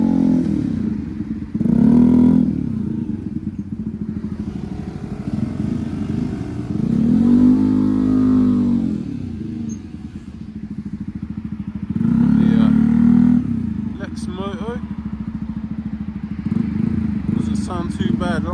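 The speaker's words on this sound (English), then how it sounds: "It sounds like we have a couple more bikes rolling out." Motorcycles rev and roll past one after another at a Japanese car meet in Reading, engines swelling and fading in three loud passes, with people talking over the rumble.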